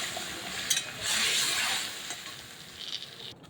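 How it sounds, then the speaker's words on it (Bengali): Fish and taro curry poured into a hot pan, setting off a brief loud surge of sizzling that settles into a steady close crackle, with a few clinks and stirring scrapes. "এবার আমি তরকারি ঢেলে দেব"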